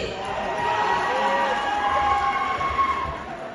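Audience cheering and hooting at a Punjabi Gidha folk dance performance in Australia, a loud continuous crowd roar with whoops and shouts throughout.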